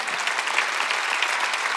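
A church congregation at a Wednesday worship service claps together in a dense, loud burst of applause that carries steadily throughout.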